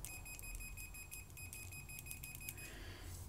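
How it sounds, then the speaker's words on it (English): A multimeter set to continuity gives a quick series of high, thin beeps, some short and some sustained, close by but fairly faint against a quiet room. "it'll give you an audible beep"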